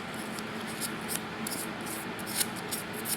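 Sandpaper rubbing a dirty coil contact on a Hercules Power Model NXB project, a close, steady rasping scrub with short repeated strokes and no speech.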